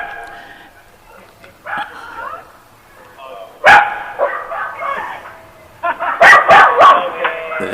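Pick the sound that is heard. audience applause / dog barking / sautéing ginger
dog barking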